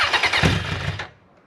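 Suzuki Bandit 1200 Mk1 motorcycle engine cranking and catching on choke, a loud close burst of starter and engine noise lasting about a second before cutting away.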